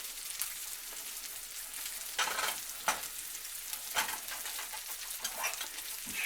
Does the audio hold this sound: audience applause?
no